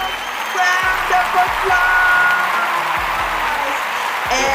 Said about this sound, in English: I would love for my audience to please put their hands together